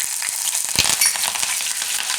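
Cumin seeds and red chillies crackle and sizzle loudly in hot oil, a dense close hiss with quick popping bursts throughout, no voices.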